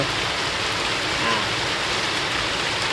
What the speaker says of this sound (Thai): ฝนตกเยอะมากนะ